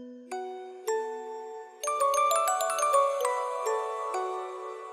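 Pearly Gates, a Kontakt sample library preset, plays bell-like chime notes, at first one by one and then in a quick rising cascade. Each tone rings clear and then decays in a soft reverb wash.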